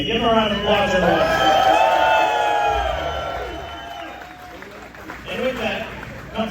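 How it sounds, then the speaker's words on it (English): Crowd cheering and whooping for the Knoxville Nationals sprint car champion at a post-race press event, a loud burst of noise that gradually fades, with voices mixed in. "Give him a round of applause, everyone."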